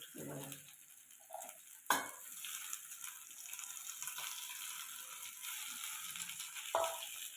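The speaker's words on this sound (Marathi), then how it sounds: "याला छान मिक्स करून घ्यायचं." Red ambadi buds are stirred into a chutney in a pan, with quiet scraping and clinking of a utensil against the metal over a faint background hiss, including one sharper knock.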